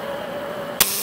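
A torch is lit to heat a stubborn pin on a Massey Harris tractor steering box: a steady gas hiss with a faint tone, then a sharp, loud burst of ignition near the end.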